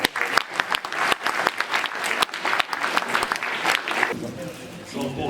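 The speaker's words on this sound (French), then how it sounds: "on peut encore les applaudir" Sustained applause from an audience at a town hall New Year's greetings ceremony in Bousies, many hands clapping densely and loudly for several seconds, tapering off near the end.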